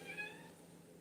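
A single faint, short cat meow rising and falling, heard alone in a quiet room.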